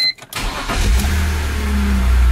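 A BMW E46 330i fitted with an M50 intake, an ICV delete and an N52 big-bore throttle body cranks briefly and fires, then settles into a loud, steady idle close by.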